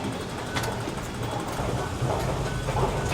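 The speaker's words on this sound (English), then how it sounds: "So this is Central train station, which I think is obviously like the main station in Hong Kong" Train noise at Central station in Hong Kong: a steady, close rumble of rolling rail cars with a faint clatter, continuous throughout and not under talk.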